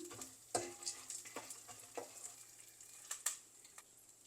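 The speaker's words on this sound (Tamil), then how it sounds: "நிலக்கடலை ஒரு கைப்பிடி அளவு சேர்க்கலாம் இது எல்லாம் கொஞ்சம் நல்லா பொரியட்டும்" Peanuts frying in a pan, with a handful of nuts added to other ingredients for lemon rice: a steady close sizzle broken by sharp crackles and pops, brief stirring scrapes, no voices.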